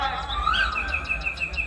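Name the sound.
birds chirping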